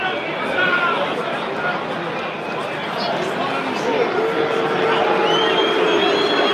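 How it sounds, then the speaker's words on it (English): A football stadium crowd at a Real Madrid versus Manchester City Champions League match roars and boos steadily at a substituted player, a loud unbroken wall of massed voices. "They're booing Vinny, y'all."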